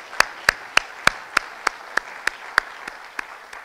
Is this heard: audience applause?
yes